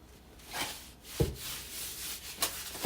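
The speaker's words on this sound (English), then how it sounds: "And I'm going to rub this in." Hands rub onion and garlic powder into a raw pork butt, producing soft, close rubbing and brushing strokes with a few slightly louder swipes and no talking.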